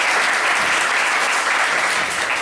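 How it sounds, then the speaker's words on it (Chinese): Audience applause greeting a speaker at a forum on Indigenous co-management with the Forestry Bureau, a steady, dense clapping from a full room that fills the whole stretch without pause. "那我们就先热烈掌声来欢迎包基成主席。"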